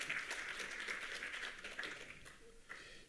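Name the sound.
audience applause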